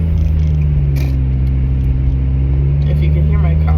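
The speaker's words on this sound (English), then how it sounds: "if you can hear my car, that's me" A car engine drones steadily from inside the moving vehicle, a constant low rumbling hum throughout.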